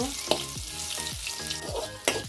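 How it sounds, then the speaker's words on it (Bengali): Chopped garlic and onion frying lightly in oil, a close, continuous sizzle broken by rhythmic spatula scrapes and stirring clatter, with no speech. "রসুনটা আর পেঁয়াজটা দিয়ে একটু হালকা করে ভেজে নিব।"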